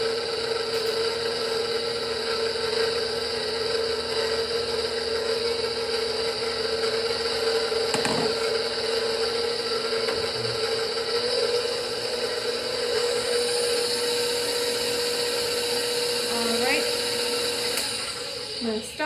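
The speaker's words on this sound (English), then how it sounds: "attach my dough hook, put up my mixer, and then I will add our egg milk mixture here as I put this on a low speed" A stand mixer fitted with a dough hook churns an egg and milk mixture into flour on low speed, a steady close motor whine running unbroken throughout with a brief knock near the middle.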